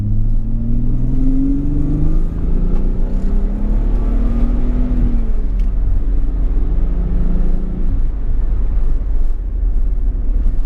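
A 1991 Nissan 300ZX (Fairlady Z) twin turbo engine accelerates hard under boost. It gives a loud, steady drone with its pitch climbing, dropping at each gear change and climbing again, over heavy low road rumble, with no voices.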